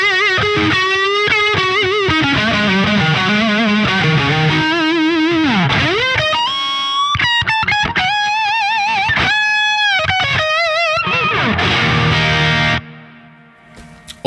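Heavily distorted electric guitar lead through a Neural DSP Fortin Cali Suite Strat-style preset, playing bends, vibrato and fast bursts with echo, loud and upfront before cutting off abruptly near the end.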